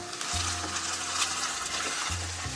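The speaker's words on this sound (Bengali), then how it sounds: "এখন রসুন বাটাটাকে দুই থেকে তিন মিনিট নেড়ে চেড়ে কাঁচা গন্ধটা চলে যাওয়া পর্যন্ত ভেজে নেব" Garlic paste frying in a pan while being stirred, a steady close sizzle broken by scraping strokes of the spoon, with no talking.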